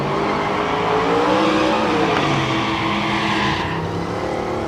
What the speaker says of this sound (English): The Chevelle in the left lane now.